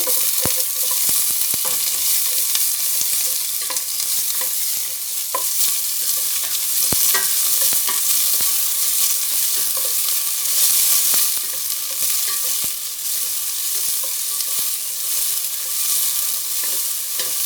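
Onion sizzling in a pot for shrimp sinigang, a loud sustained frying hiss with frequent light clicks of stirring throughout, no speech.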